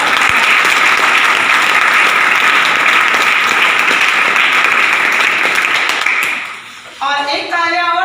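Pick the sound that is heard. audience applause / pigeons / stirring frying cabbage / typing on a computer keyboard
audience applause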